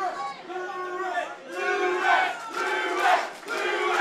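At an MMA event, the arena crowd roars and chants in rising and falling waves behind the local fighter, a loud, sustained mass of voices with brief dips between surges.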